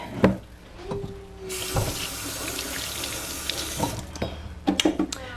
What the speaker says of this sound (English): I clean it off and wash my hands.